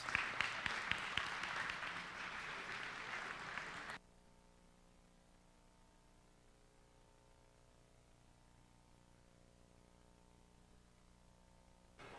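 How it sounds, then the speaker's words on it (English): Spectators applaud robotics teams at a competition qualifier, a loud burst of clapping for about four seconds that cuts off abruptly into faint hum and near silence. "can we please have a round of applause for Team 10098 Illuminati and 32289, the Cyber Bears?"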